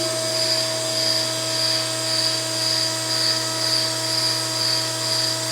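A tube bending machine bends a tube to 90 degrees over a mandrel, giving a steady, loud mechanical hum with a high whine that pulses at regular intervals throughout.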